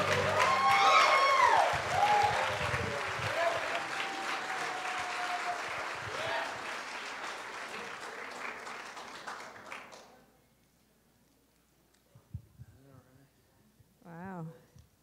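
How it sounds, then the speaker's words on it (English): Church congregation clapping and cheering as speakers come on stage, a loud, dense wash of applause under an enthusiastic voice that gradually thins and fades out, leaving near silence with a few faint sounds. "Let's stand up and give them a great big hand clap as they come"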